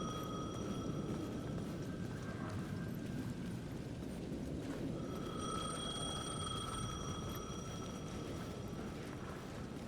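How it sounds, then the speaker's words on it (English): A payphone ringing in the video game Alan Wake 2, its electronic bell tones sounding in two faint rings separated by a pause, over a heavy low rumbling ambience. "The payphone at the edge of the plaza was ringing again."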